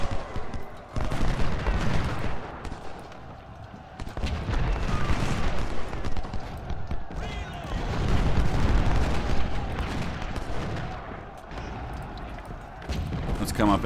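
Booming artillery fire in the Ultimate General: Civil War game at the Battle of Chickamauga: a continuous rumble of cannon and gunfire swells and fades in waves for the whole stretch, with no voice over it.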